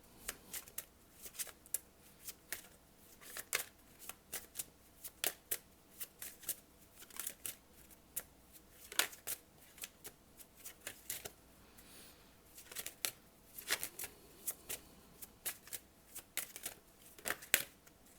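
Tarot cards being shuffled by hand, with repeated quick riffling bursts and soft slaps coming in uneven clusters, close and fairly quiet, with no voices.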